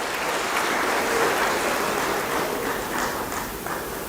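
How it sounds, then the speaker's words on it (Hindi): Crowd applause welcoming a guest at a youth day event in Bhopal, a dense steady wash of clapping that carries on unbroken and moderately loud. "ताली बजा के विनोद जी का स्वागत कीजिए"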